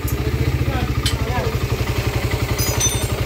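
A noisy motorcycle engine runs in a repair shop after being worked on, giving a loud, close, evenly pulsing putter with a voice briefly heard over it.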